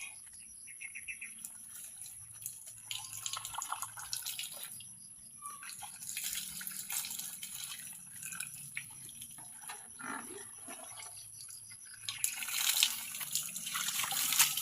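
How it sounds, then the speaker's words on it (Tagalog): Water splashing and trickling while someone bathes, soft irregular sloshes and drips at close range, growing a little busier toward the end. "Ligo-ligo tayo."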